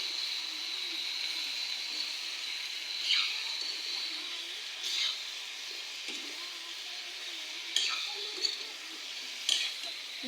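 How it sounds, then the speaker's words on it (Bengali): Salted food for a pointed gourd and fish curry is stirred in a pan under a soft, constant hiss, with a handful of brief scraping strokes spaced several seconds apart, fairly quiet and close, without speech. "লবণগুলোকে দিয়ে একটু ভালো নেড়ে নেব"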